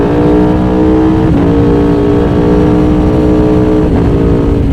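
An Aprilia Tuono V4 motorcycle fitted with an Akrapovic exhaust rumbles steadily and loudly up close, a deep continuous engine growl with slight shifts in pitch and no voices over it.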